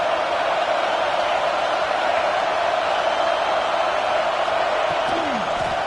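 Steady stadium crowd roar from a Madden NFL football game, a dense continuous wash of cheering held at an even level, with faint commentary-like voice traces near the end.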